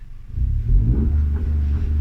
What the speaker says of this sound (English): it bounces off the top limiter, and then you just let the clutch go